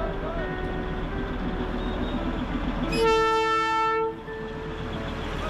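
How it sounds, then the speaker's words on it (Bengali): A Darjeeling Himalayan Railway train in the hill town of Darjeeling sounds one loud, sustained horn blast of about a second over a steady rumble of street and engine noise, with voices faintly in the background. "দার্জিলিং হিমালয়ান রেলওয়ের অন্তর্গত এই ট্রেনে করে পুরো দার্জিলিং শহরের একটি জয় রাইডও করে নিতে পারেন"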